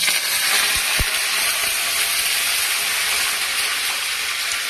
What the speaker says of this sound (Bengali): শুকনো লঙ্কা দিলাম, অল্প করে দিলাম কারণ আমি ঝাল খুব কম খাই। এবার কারি পাতা ফোড়ন